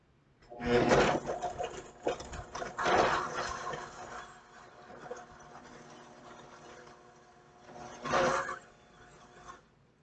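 Fruit ice cream churning in a countertop ice cream machine, a steady mechanical whir running throughout with louder surging bursts near the start and again toward the end.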